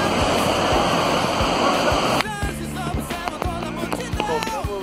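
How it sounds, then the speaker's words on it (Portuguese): A waterfall near Piquete, São Paulo, roars as a dense, close rush of falling water for about two seconds before cutting to a much quieter outdoor scene with scattered small sounds. "Eu acho que a cachoeira é bonita."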